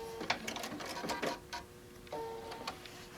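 A home sewing machine runs a short back stitch while stitching down a placemat panel, giving a series of quick mechanical bursts and clicks with brief pauses, close and moderately loud.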